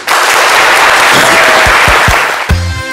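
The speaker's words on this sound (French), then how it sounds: "Merci de le recevoir, s'il vous plaît, avec des applaudissements très chaleureux." An audience applauds warmly to welcome a singer, a loud, dense, continuous wash of clapping close to the mic for about two and a half seconds before it trails off under a sustained musical note.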